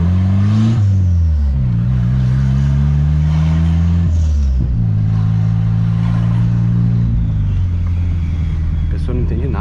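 A turbocharged car accelerating through a neighborhood: the engine revs up and down in loud, close swells, its pitch rising and falling repeatedly, with voices talking over it.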